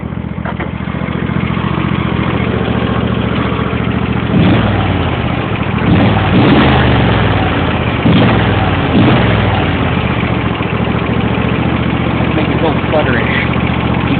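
An old engine sputters and chugs unevenly at idle just after a cold start, with a steady low rumble punctuated by irregular misfires, close and loud, while a person talks over it.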